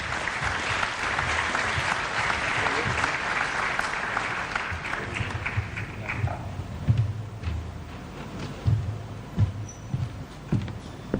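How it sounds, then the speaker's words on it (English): An audience at an annual general assembly closing session applauds sponsors, a full round of clapping that holds steady for about six seconds, then thins into scattered claps and faint murmuring. "another round of applause for all our sponsors for their support"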